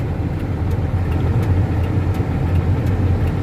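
A ten-wheeler truck drives along a sugarcane farm road, its engine a steady low rumble heard from inside the cab, continuous and fairly loud, with no talking.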